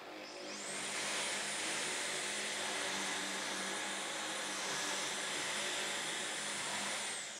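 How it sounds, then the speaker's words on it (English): A stick vacuum whines up to a steady high-pitched hum and runs continuously at close range on carpet, with a faint rushing of air beneath the motor tone. "First up, let's do a stick vacuum."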